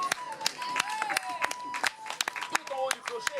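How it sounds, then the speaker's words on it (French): Applause breaks out at the top of a church bell tower, a short burst of scattered, sharp hand claps over a few seconds while a narrator's voice talks on top. "Tout en haut du clocher, on applaudit la montée du clocher"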